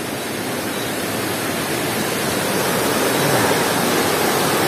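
Water rushing at a natural river pool in a forest setting, a loud continuous broadband roar that swells slightly toward the end, with no voices.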